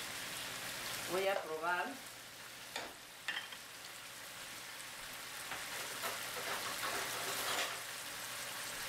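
Broccoli stir-fry being stirred in a sizzling pan, a steady frying hiss with a few soft scrapes, and a person speaking briefly near the start.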